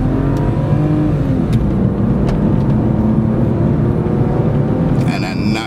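A 2002 BMW E46 325Ci convertible with a six-cylinder engine accelerates smoothly, its loud, continuous engine drone rising steadily in pitch as it pulls.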